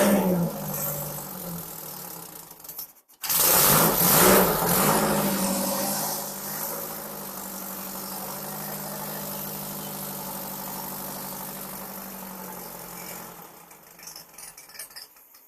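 A Baja's engine, given starter spray, catches after a brief crank, roars loudly as it is revved, then settles into a steady idle close by before cutting out near the end.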